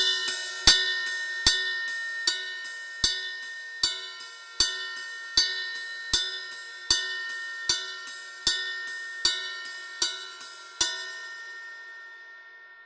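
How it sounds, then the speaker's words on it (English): A ride cymbal pattern from a drum groove in seven, heard as evenly spaced bright metallic strikes, each ringing out and decaying, about fourteen hits close up with no other drums and no talk, the last one fading slowly. "Nice ride pattern."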